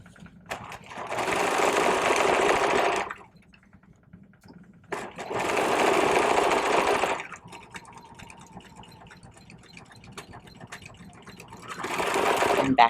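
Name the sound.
sewing machine back stitching a seam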